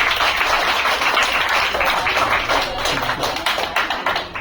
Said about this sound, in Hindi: जोरदार तालियां नीलू मैम के लिए।